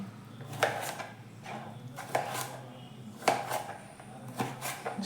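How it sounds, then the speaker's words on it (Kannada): A knife chopping tomatoes on a board for tomato chutney, sharp distinct knocks in an uneven rhythm, about six clear strikes with softer cuts between them, close and fairly quiet. "ಟೊಮೊಟೊನ ಈ ರೀತಿಯಾಗಿ ಕಟ್ ಮಾಡ್ಕೊಳ್ತಾ ಇದ್ದೀನಿ"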